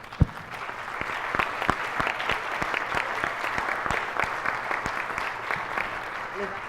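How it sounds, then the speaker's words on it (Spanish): A room full of people at a university teaching symposium diploma ceremony applauds steadily, with a few sharp, louder claps standing out nearby over the sustained clapping. "yo les pido un gran aplauso para todos"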